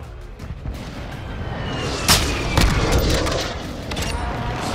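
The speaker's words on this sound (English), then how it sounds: "Friendly airstrike in the AO." Booming blasts from a friendly airstrike in Modern Warfare 2 Plunder mode, a sharp loud explosion then a second heavy rumbling impact over steady battlefield noise.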